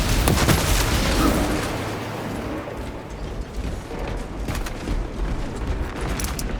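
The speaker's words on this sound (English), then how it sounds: "Using crack grenade." A crack grenade bursts in Warhammer 40K Space Marine 2 with a loud opening blast, then rumbling debris and mechanical clatter roll on for several seconds before settling into a busy, noisy battle din.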